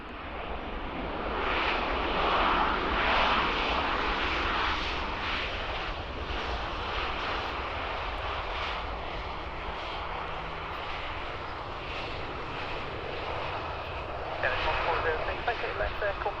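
A jet airliner on runway 22 at London Stansted Airport gives a continuous broad roar that swells and fades, with air traffic control radio voices talking over it throughout.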